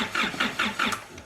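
An Isuzu 4JJ1 diesel engine in a D-Max cranks over close up, its starter turning in four or five quick, rhythmic pulses without catching.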